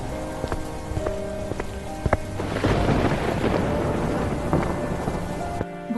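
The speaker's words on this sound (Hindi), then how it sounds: "तभी आसमान में बहुत तेज हवाएं चलने लगती हैं और बिजली के साथ बारिश भी शुरू हो जाती है।" A thunderstorm with steady heavy rain pouring down and a rumble of thunder building through the middle, loud and continuous, with no voices present.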